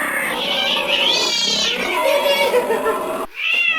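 A chubby cat yowls loudly and continuously at close range, a drawn-out wavering caterwaul that rises and falls before a brief pause and another whine, with a person talking faintly nearby.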